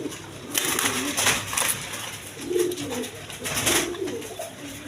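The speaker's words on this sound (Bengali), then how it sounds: "এখানে আরেক পেয়ার বাসিরাজ কবুতর আছে" A pair of Basiraj pigeons, a red male and a black female, cooing close by in a series of low rolling coos, with faint background clatter and no clear speech.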